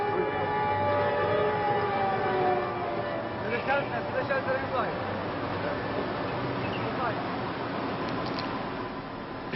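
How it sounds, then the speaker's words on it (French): Air raid sirens wail over Baghdad, rising and falling tones from distant sirens echoing across the city, heard beneath a narrator's voice and steady background rumble. "Le bruit des sirènes pénètre la ville qui s'affole"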